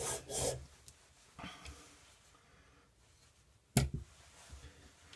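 A hand plane iron scrapes back and forth on a whetstone during sharpening, making close, rasping strokes in a few distinct bursts with quiet pauses between them and no talking.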